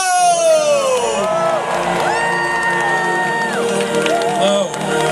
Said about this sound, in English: a big round of applause for Colin Trevorrow!